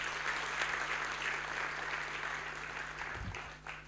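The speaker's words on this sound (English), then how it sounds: "Please applaud them again." Audience applause at a student anti-corruption challenge awards ceremony, continuous clapping from many people with a steady low hum beneath, tapering slightly toward the end.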